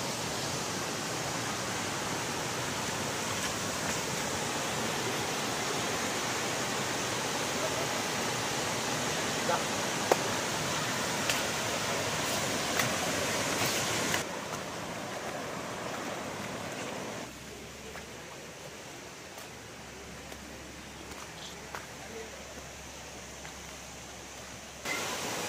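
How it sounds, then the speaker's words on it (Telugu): Palakondallu waterfall near Kadapa roars as a steady, broadband rush of falling water that stays loud and unbroken throughout, easing slightly partway through, with no voices. "మొత్తానికి వాటర్ ఫాల్ దగ్గరికి వచ్చేసాము."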